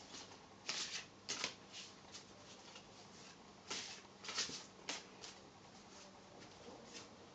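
Oracle cards shuffled by hand for a reading, a series of crisp riffling bursts in uneven clusters, close and fairly quiet with brief pauses between.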